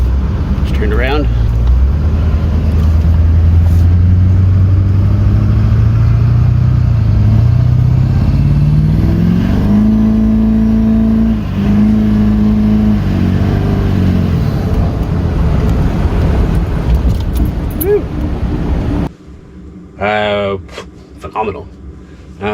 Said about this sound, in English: This truck has never ran so great since I bought it.